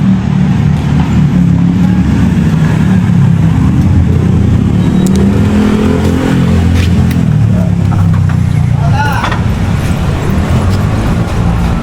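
A motorcycle engine runs loud and close, a steady rumbling drone with slight rises in revs throughout and no pauses.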